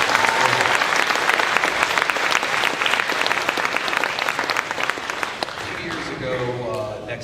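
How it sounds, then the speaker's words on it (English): Sustained applause from a concert audience at a high school jazz all-stars show, loud and dense clapping that gradually thins and fades toward the end, with a voice briefly heard over it. "Give yourself a round of applause."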